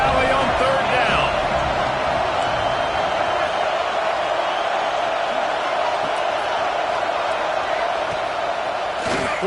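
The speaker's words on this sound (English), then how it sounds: "Here comes the noise from this big crowd in Happy Valley on third down." A huge football stadium crowd in Happy Valley roars on third down, a dense, loud, sustained wall of noise that holds steady without letup, with a commentator speaking over it.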